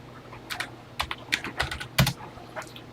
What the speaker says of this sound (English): Okay, a bit of typing to do here.